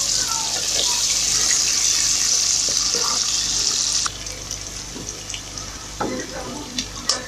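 Smoked fish fries with vegetables in a pot, giving a bright, continuous close sizzle with occasional stirring knocks and scrapes; the sizzle drops in level about halfway through, and a voice talks quietly at moments.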